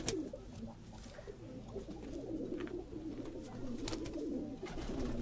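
Sialkoti pigeons on a rooftop loft coo steadily in soft, overlapping low calls, with scattered wingbeats and faint rustling throughout, no voices heard.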